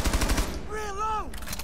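Gunfire in the Rainbow Six Siege video game: a quick burst of several sharp shots at the start, followed by a tonal in-game sound, fairly loud and close.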